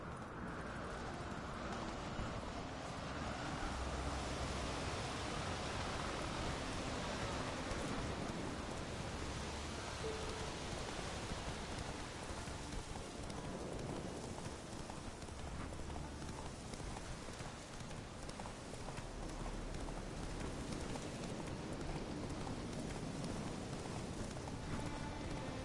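Horse hooves clip-clopping steadily in The Witcher 3 as the rider travels, a continuous dense rhythmic patter over a broad wash of ambient noise, with no talk.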